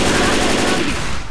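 Rapid automatic gunfire from the video game Left 4 Dead 2, a dense, loud, continuous burst of shots lasting just over a second, with a voice partly mixed in.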